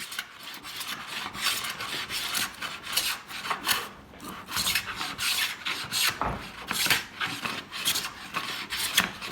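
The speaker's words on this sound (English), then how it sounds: "Now Nathan even tried his hand at planing" Hand plane shaving a soft pine board, giving a steady series of rasping, scraping strokes that rise and fall in an uneven rhythm, close by with no talking.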